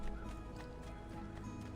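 Horse galloping in Assassin's Creed 2, a steady run of hoofbeats at moderate level under a dense game soundscape for the whole short stretch, with no talk over it.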